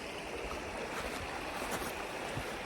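Mountain stream water rushing over rocks on a Scottish hill walk, a steady broadband gush that fills the whole clip, loud and close with no talking.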